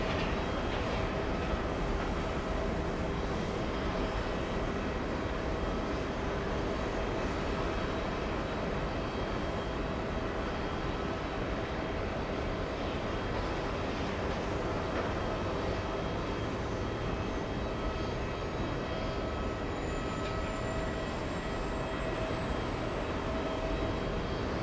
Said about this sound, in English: We have JetBlue 991 flying in from Buffalo